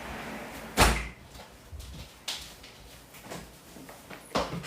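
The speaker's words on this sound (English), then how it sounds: "let me close this door" A door is shut indoors with a sharp thud near the start, followed by a few quieter knocks and handling sounds and another bump toward the end, with no one speaking.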